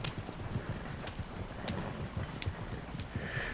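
Horse hooves clip-clop steadily while pulling a wagon in Red Dead Redemption 2, a continuous rhythmic trot over a dense rumbling rolling noise, loud and close throughout.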